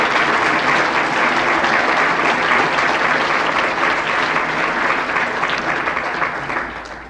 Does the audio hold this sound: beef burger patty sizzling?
no